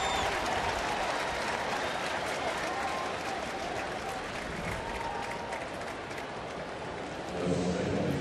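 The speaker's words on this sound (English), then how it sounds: "based on the cheer that we heard here at the ballpark after Wainwright nearly goes yard right here" A ballpark crowd at a St. Louis Cardinals at Cincinnati baseball game roars and applauds steadily after a near home run double by Wainwright, a broad, sustained wash of distant cheering that swells slightly near the end.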